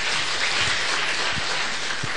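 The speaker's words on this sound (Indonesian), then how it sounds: "Mau tepuk tangan aja, jangan ragu-ragu, nggak apa-apa." Church congregation applauding during a Sunday worship service, a steady broadband clatter of many hands clapping together, moderately loud and continuous throughout.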